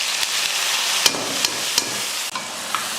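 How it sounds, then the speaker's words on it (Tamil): Dried fish frying in hot oil in a kadai gives a steady, close crackling sizzle throughout, with a few sharp ticks and pops scattered over the hiss. "எண்ணெய் நல்லா காஞ்சதுக்கப்புறமா கருவாடு சேர்த்துடலாம்."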